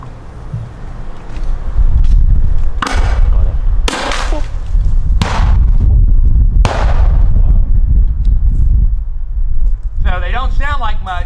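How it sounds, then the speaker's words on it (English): An M79 grenade launcher fires at a Vietnam War reenactment: four sharp, loud reports spaced a second or two apart over steady outdoor wind and crowd noise, with a voice speaking briefly near the end. "So they don't sound like much, but they have a big impact on the enemy, and in close quarters fighting in the jungle, these M79s were invaluable"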